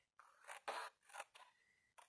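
Several crisp snips of scissors trimming card corners, short bursts with brief pauses between, close and fairly quiet.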